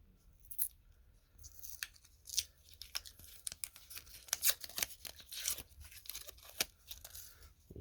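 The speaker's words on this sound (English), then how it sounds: "take this adhesive off, which does take a minute to kind of get started" Adhesive being picked and peeled off a Blu-ray package by hand, close and quiet, in a run of crinkly tearing bursts and sharp plastic crackles that grow busier as the strip comes away.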